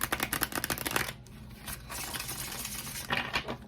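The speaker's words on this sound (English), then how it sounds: "I feel like I gotta shuffle one more time." Riffle shuffling of a deck of playing cards during a pick-a-card reading, a quick burst of close, crisp fluttering riffles followed by softer card handling and a second shuffle near the end.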